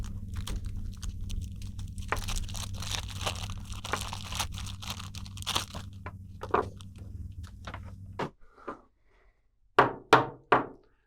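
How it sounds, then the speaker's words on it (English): A plastic bag being worked off a heavy Sting toy weapon with a chain, close crinkling and rustling over a low hum, then scattered sharp crackles and a few loud separate crunches near the end. "can we actually get the bag off without actually, cutting into the"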